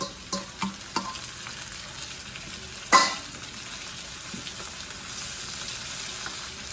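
Tomatoes go into a hot pan for ginisang ampalaya with shrimp and eggs, starting with a few soft drops and a sharp clatter, then settling into a steady close sizzle with stirring and no speech.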